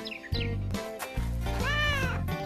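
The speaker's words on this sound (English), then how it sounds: "The cat meows at the rat." Several drawn-out meows from a cat, one after another, close and fairly loud, with short gaps between them.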